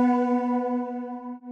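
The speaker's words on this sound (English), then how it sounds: "a vocoder through my synth here, that sound very artificial" A vocoder played through a synth produces a very artificial sustained tone with a strong, buzzy harmonic stack. It is loud and alone and fades slightly over about a second and a half.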